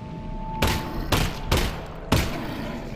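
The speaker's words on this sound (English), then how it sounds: "Two shots." Four separate gunshots in the video game Half-Life: Alyx, each a sharp loud blast with a short decaying tail, spaced roughly half a second apart over a faint steady hum.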